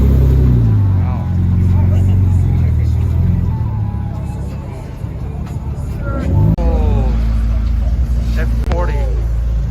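A Ferrari F40 at a busy Los Angeles car meet rumbles loudly past up close, its engine note rising and falling with revs, while voices talk over the noise.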